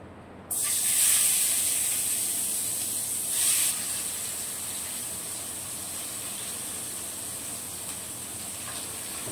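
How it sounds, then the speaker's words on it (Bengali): Chopped onions hitting hot oil in a wok while a fish bhuna is cooked: a sudden loud sizzle bursts in, then settles into a steady, bright hiss with a brief surge partway through. "এখন কড়াইয়ে আমার তেল দেয়া আছে, এখন আমি পেঁয়াজটা ভেজে নিচ্ছি"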